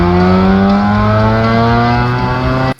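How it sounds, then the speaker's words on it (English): Mazda RX-8 rotary exhaust with mid pipe, two resonators and two small mufflers before the tips, droning loudly and steadily at a sustained high rev, very close, then cutting off abruptly. "An RX-8 with mid pipe, 2 resonators, 2 small mufflers before the tips."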